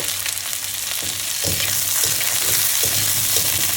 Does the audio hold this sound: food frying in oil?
yes